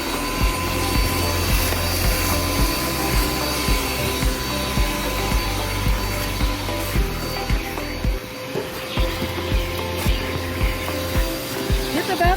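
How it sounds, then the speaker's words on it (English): A household vacuum cleaner runs in a living room, a continuous droning motor hum with shifting tones as it is pushed back and forth over the floor, steady and fairly close throughout. "You gotta vacuum good if you're gonna vacuum."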